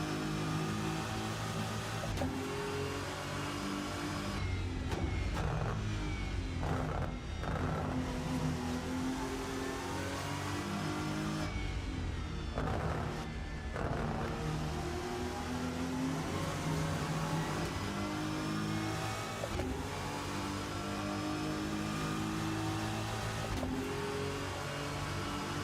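A Porsche race car engine in the video game Rennsport, revving hard and droning continuously with gear changes and rising pitch sweeps, loud and close for the whole stretch with no talk.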